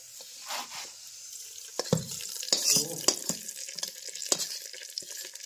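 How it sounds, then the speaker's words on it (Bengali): Hot tempering poured into khichuri of Gobindobhog rice, giving a sudden crackling sizzle with sharp pops and spatters, then a settling hiss with scattered clicks of a ladle against the pot, heard close up with no talking. "ফোড়নটা রেডি হয়ে গেছে, এবার আমরা খিচুড়ির মধ্যে ফোড়নটাকে দিয়ে দেবো।"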